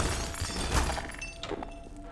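Glass shattering in Half-Life 2 gameplay: a single sharp breaking crash near the middle, followed by quieter clattering debris and game ambience.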